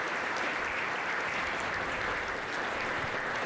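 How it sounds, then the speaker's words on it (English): Big round of applause for sponsors at a State of the Community chamber event, a continuous, even wash of many hands clapping, fairly distant and soft, without any talk over it. "Let's give them all a big round of applause."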